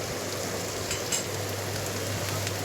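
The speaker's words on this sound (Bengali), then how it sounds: "পেঁয়াজটাও একটু লাল লাল করে এবারে ভাজবো" Soft, steady sizzle of onions frying in a pan, with faint crackles and an occasional stirring scrape, fairly quiet and close.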